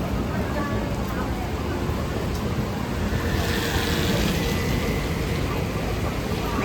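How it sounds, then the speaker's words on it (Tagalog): Rain falls in the Ximending area of Taipei, a steady dense hiss of drops on pavement mixed with street and traffic noise, continuous and fairly close. "It's raining in Simending."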